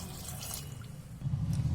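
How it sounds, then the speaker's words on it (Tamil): Water poured from a tap or jug into a pot of chickpeas while cooking channa masala, a steady close splashing pour that grows fuller toward the end, with no talking. "இப்போ இதுல கொஞ்சமா தண்ணி சேர்த்துக்கலாம்,"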